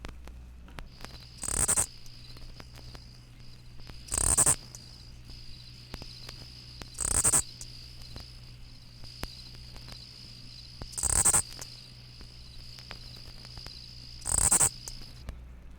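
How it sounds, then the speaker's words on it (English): An oblong-winged katydid (Amblycorypha oblongifolia) sings at night from weeds and bushes, giving five loud, sharp buzzy phrases about every three seconds over a faint, steady insect background. "The oblong-winged katydid, Amblycorypha oblangifolia, sings a loud, sharp phrase at night from high weeds, vines, and bushes."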